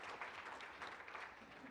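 A small audience claps for Brian at a motivational event, a brief, moderately loud patter of applause with a murmur of voices mixed in.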